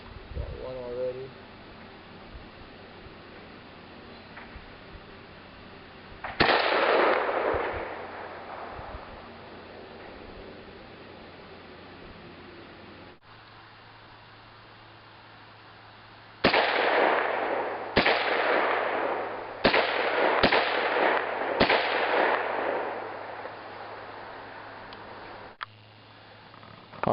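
1951 Tula SKS rifle in 7.62x39 firing at tin can and jug targets outdoors: sharp single reports, one early, one mid-clip, then a quick cluster of several shots, with quiet gaps between.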